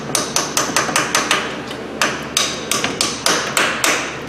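Repeated hammer blows drive a socket onto a vehicle U-joint, about a dozen sharp metallic strikes in an uneven rhythm, close and loud with no talking.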